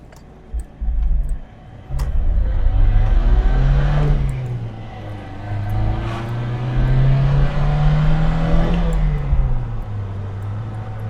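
An Isuzu 117 Coupe engine drones steadily from inside the cabin, rising and falling in pitch as it accelerates and shifts gears, with a brief knock near the start, on roads in Carmarthenshire.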